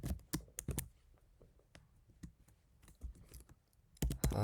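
Python code being typed on a computer keyboard, with irregular bursts of crisp key clicks, some quick runs and short pauses, close and fairly quiet, with no talk.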